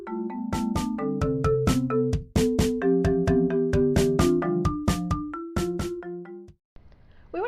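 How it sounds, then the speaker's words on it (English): A phone ringtone plays a repeating melodic pattern of bright, clear electronic tones, loud and close, running steadily for several seconds before cutting off into brief quiet. "we got a phone ringing"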